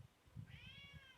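A pet cat lets out one soft, rising-then-falling meow, faint and fairly near in a quiet room, with no talk.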